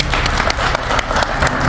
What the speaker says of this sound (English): can you please give some applause for our minister?